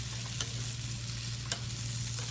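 Snake beans and chicken in a thick brown bean sauce with sesame oil get stirred with a basting spoon in a pan, a soft steady sizzle with a few faint scraping taps, close but quiet.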